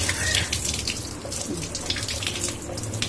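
Tap water running steadily while freshly cleaned fish is rinsed in a sink, a close continuous splashing gush with no pauses.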